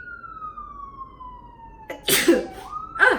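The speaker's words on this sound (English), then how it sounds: "we live by a fire station, so please excuse the ambulances" An ambulance siren near a fire station gives a long, slowly falling wail that fades as it passes. A loud sneeze then cuts in over the end of the siren.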